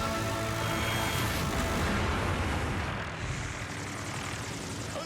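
A helicopter flying during a Gatling gun firing run gives a loud, steady roar of engine and rotor that stays near and constant throughout, easing slightly toward the end, with no voices.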